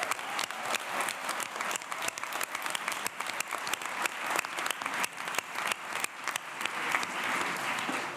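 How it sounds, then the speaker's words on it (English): At a school board meeting, a seated audience gives a sustained round of applause. It is a brisk, dense clatter of many hands at a moderate distance, holding steady throughout with faint crowd murmur underneath. "let's give them another big round of applause for what they've done"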